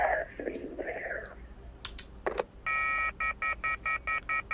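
A telephone in the video game YIIK: A Post Modern RPG plays a run of rapid, evenly spaced electronic tone bursts after some quiet whispery voice sounds and a few clicks.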